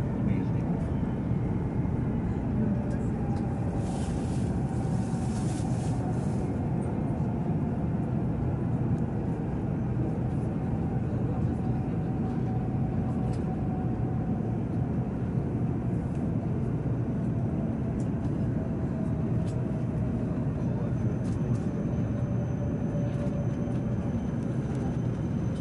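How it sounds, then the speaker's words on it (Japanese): Train pulling into Iiyama Station in Nagano Prefecture, a steady low rumble and rolling drone throughout with a faint brake squeal and some hiss, continuous and fairly loud with no talk. "列車は長野県最後の停車駅飯山駅に到着です。"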